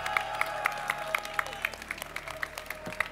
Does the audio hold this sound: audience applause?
yes